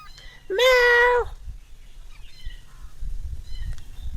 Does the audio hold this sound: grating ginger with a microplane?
no